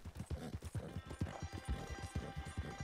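Horse hooves clip-clop at an easy riding pace in Red Dead Redemption 2, a steady rhythmic series of soft thuds on a trail, fairly quiet and heard without speech.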